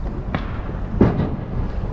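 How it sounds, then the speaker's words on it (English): Outdoors near a river in Warsaw, two dull firecracker-like pops go off at a distance, a second apart, over steady ambient background. "I hear some noise over here like firecrackers."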